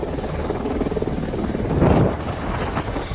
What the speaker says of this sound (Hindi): 3 अपाचे हेलीकॉप्टर गाजियाबाद के इंडियन एयरबेस पर गरजते हुए उतरे।